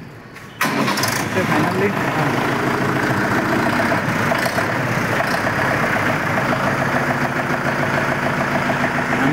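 A Mahindra tractor engine cranks and catches just after a brief quiet moment, then settles into a steady, close idle that runs loudly for the rest of the span while people talk over it.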